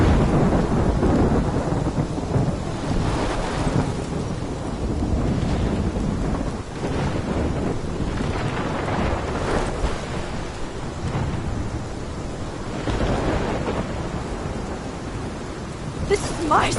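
In the video game Life is Strange, a thunderstorm brings dense, steady rainfall with long, rolling rumbles of thunder swelling and fading throughout. It is loud and close, with no speech over it.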